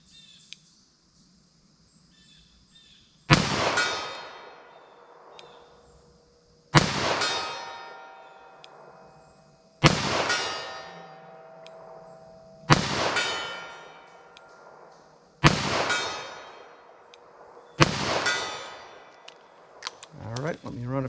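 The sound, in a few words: 38 Special revolver rounds fired at clanging steel targets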